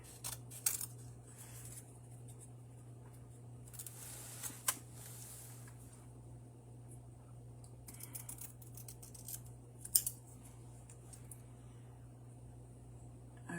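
Scissors snipping paper for a handmade card, soft close cuts in short bursts spaced across a quiet room with a low steady hum beneath, no talk.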